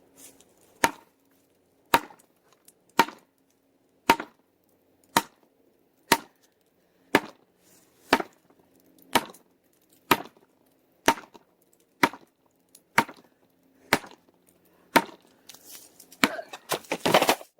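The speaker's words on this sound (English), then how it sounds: "that concludes our demonstration for today, at least as far as chopping and spiking goes" A tomahawk chops into wood in a steady series of about sixteen sharp, evenly spaced thwacks roughly once a second, loud and close, ending in a brief flurry of rustling clatter.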